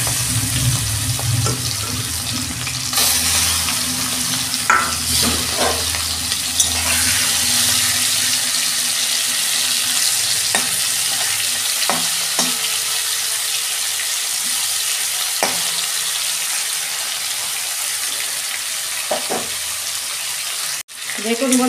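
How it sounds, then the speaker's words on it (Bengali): Prawns frying in hot oil for a chingri malai curry, a steady loud sizzle throughout with a few clinks and scrapes of a spatula in the pan. "তেল গরম হয়ে গেছে, আমি মাছগুলো দিয়ে দিচ্ছি।"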